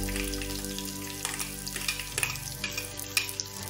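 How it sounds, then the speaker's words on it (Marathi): Finely chopped onion sizzling in hot oil in a pan with curry leaves, a steady close crackle with soft scraping stirs rising over it, and no voices. "बारीक चिरलेला कांदा सुद्धा मी या तेलामध्ये चांगल्या प्रकारे मिक्स करून घेत आहे"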